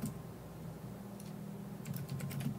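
Soft typing on a computer keyboard, a faint patter of key clicks that grows into a quicker burst of taps near the end over a steady low room hum.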